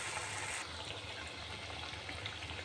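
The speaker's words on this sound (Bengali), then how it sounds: "পিঠা ভাজা হয়ে আসছে" Phool pitha sputter in hot oil, a constant close bubbling hiss that runs unbroken from start to finish with no talking.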